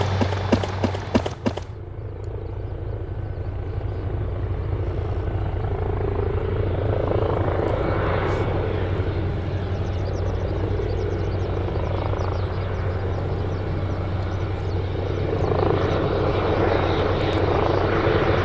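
A Hiroshima Prefecture disaster prevention helicopter returns to Takamatsu Airport, its rotor and engine drone steady and building in loudness, after a brief burst of sharp clattering at the start.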